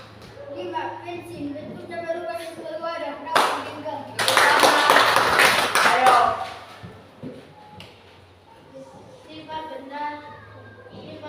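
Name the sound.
children clapping hands in a classroom song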